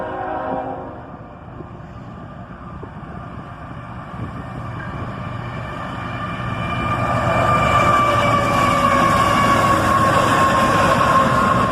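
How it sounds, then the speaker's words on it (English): An autorack freight train rumbles past nearby, steady rolling wheel noise and metallic squeals swelling louder as the cars roll by, with no talking. "It was about 15 minutes later when the southbound arrived, an Autorack train"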